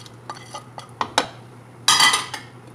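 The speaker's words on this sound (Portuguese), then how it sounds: "Dou mais uma misturada" A spoon scrapes and clinks against a pan while farofa with fried banana is stirred, giving a handful of sharp metallic taps followed by a louder, longer scrape, all close up over a steady low hum.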